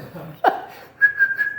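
A person whistles a short tune indoors, a quick upward swoop followed by a few sustained, steady notes, close and clear with no talking.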